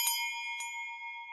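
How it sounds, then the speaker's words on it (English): A bright electronic notification bell chimes twice, clean ringing tones that sustain and fade, with no talking. "click that notification bell"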